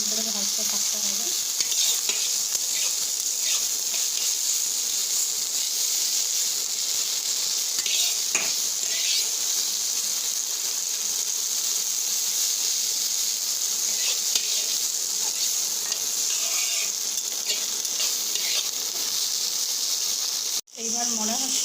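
Leafy greens stir-fried in plenty of oil in a pan, a constant close sizzle with occasional utensil scrapes and clinks, ending in a sudden break near the end.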